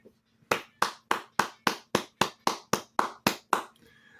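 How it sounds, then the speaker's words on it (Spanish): About eleven sharp, evenly spaced hand claps ring out in a steady rhythm at a political gathering, close and clear, then stop, leaving faint room noise. "un aplauso para usted"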